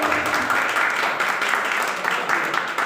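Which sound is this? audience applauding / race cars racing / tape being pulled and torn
audience applauding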